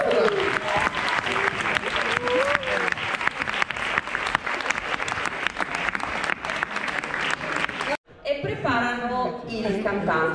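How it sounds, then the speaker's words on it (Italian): A TV show audience claps loudly and continuously for a guest, a dense, sustained wave of applause lasting about eight seconds before it cuts off and music with a voice follows. "Un bel applauso per Chiara Ferragni."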